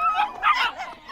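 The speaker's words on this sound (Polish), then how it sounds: "Szczeniaki!" Cartoon puppies barking and yipping in Barbie Life in the Dreamhouse, a brief burst of high, bright yaps and whimpers, loud and close.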